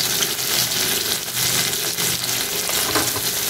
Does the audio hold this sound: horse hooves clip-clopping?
no